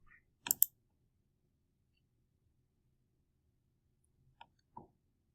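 Two quick computer mouse clicks on a Save and Close button, one near the start and a soft pair about four seconds later, faint and close against near silence.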